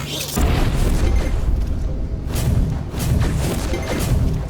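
Missile explosions in the factory-building game Infinifactory, heard as a continuous run of loud, booming blasts and crashing bursts, close and dense, with no talk over them.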